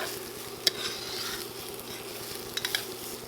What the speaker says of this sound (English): I like to saute my rice a little bit before adding the water